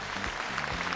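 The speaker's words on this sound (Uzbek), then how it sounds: "Mana bu qarsaklar sizga." Studio audience applause on an Uzbek TV game show, a dense, even wash of clapping that fills a brief one-second moment at steady, moderate loudness with no voices over it.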